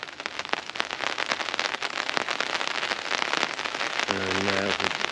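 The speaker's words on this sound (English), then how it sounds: "You can possibly hear the rain on the tarp." Rain patters densely and steadily onto a tarp shelter at a bushcraft camp in the woods, falling straight down. The close crackling drumming continues without a break, and a brief tonal sound appears near the end.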